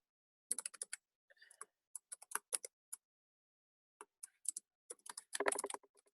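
Typing on a computer keyboard in Devanagari gives quiet, close key clicks in short irregular bursts with pauses between them, ending in a quicker flurry.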